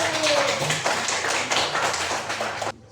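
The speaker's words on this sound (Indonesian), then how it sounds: "Tepuk tangan untuk Naila dulu" A classroom of students claps for a classmate, a fairly loud patter of hands with rhythmic surges and a voice heard faintly, ending abruptly.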